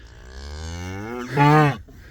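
Cattle on a farm moo in one long, drawn-out call that swells louder toward the end, heard close and alone in an afternoon setting.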